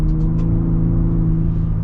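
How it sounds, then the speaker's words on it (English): A 2026 Ford Raptor with a trombone exhaust in Baja mode gives a loud, close, steady low engine rumble with a deep droning tone, heard from inside the truck while driving. "And obviously you've got the trombone exhaust,"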